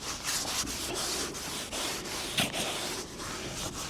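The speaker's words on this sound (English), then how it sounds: "So you just have to give it a good scrub." A scrub pad works hard over a muddy car door during a detail, giving rapid close rasping strokes in an uneven back-and-forth rhythm, loud and alone.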